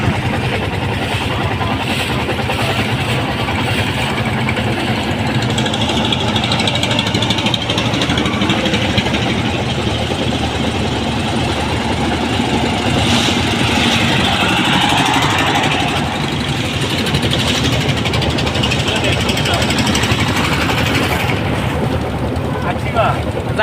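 A passenger boat's engine drones loudly and steadily throughout a river ride to Sada Pathor in Sylhet, a close continuous rumble with voices faintly mixed in.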